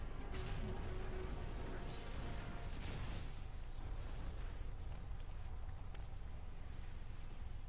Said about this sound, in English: so there's a massive explosion